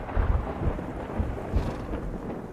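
Thunder rumbles low and heavy in several rolling swells before rain, over a soft wash that sounds like light rain. No one speaks.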